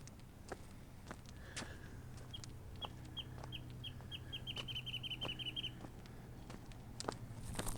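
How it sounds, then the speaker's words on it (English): A bird calls faintly from a distance in sage scrub, giving a quickening series of thin, high chirps over soft outdoor background noise. "Love the sound of that bird."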